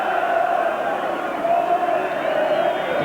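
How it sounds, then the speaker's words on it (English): A football crowd chants Kevin Keegan's name at his farewell match, Newcastle United against Brighton in 1984, a sustained, massed rhythmic chant filling the stadium from a distance, with a commentator talking over it. "And the crowd have only one name on their lips."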